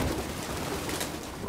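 Pigeons coo in Detroit: Become Human, a soft, low burbling that runs steadily through a brief stretch of ambient game background with light rain-like texture.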